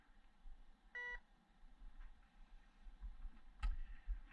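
A metal detector gives a short electronic beep over a buried target, then a brief sharp tick later, set against quiet outdoor background noise with no speech.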